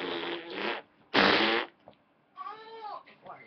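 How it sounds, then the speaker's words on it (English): A loud, brassy fart erupts between stretches of excited voices during a Madden NFL 25 football video game session, close to the microphone and followed by more chatter. "I farted for real this time."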